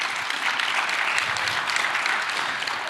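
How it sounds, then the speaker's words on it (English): Audience at a sales conference clapping for the event sponsors: a dense, sustained burst of applause from many hands, steady and even throughout, with no voices over it. "Can we give them a clap right now?"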